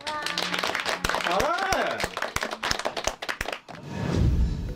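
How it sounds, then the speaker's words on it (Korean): A few people clapping in a recording studio during a K-pop group's session, sharp close claps in an uneven burst mixed with lively chatter and exclamations, ending in a muffled thump. "박수."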